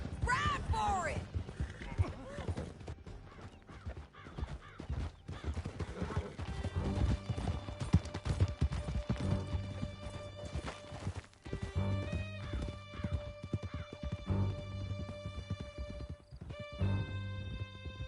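Horses gallop hard in a PS4 video game chase toward a canyon's end, with steady hoof clatter, a neigh or two, and crashes, under voices, music and game noise throughout.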